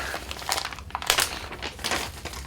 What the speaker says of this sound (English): We use the approved tool for opening this bag